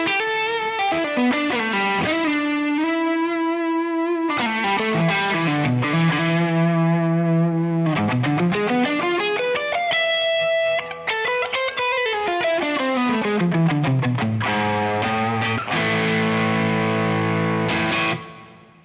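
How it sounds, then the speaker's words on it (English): Electric guitar driven through an Ibanez Tube Screamer overdrive with a compressor, a light overdrive tone playing sustained notes and sliding lines, steady and loud with no talking. "this is just with the tube screamer on its own with the compressor"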